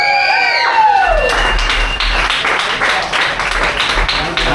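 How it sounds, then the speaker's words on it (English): A stand-up comedy audience bursts into applause and some cheering, a loud, close crowd clapping steadily just after a fading musical sting. "Everybody give a big round of applause to my little sister"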